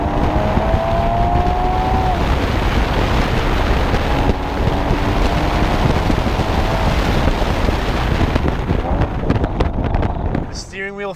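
A 2015 Porsche Cayman GTS with a PDK gearbox drives hard on a track, its engine loud and constant, rising in pitch through quick gearshifts, with heavy wind and road roar and a drop-off near the end.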